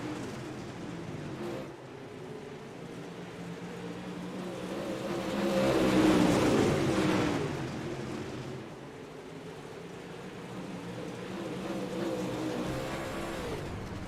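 Dirt track race cars roar around the track, engines droning and swelling as a pack passes close by midway, then fading back to a steady rumble, with no voices.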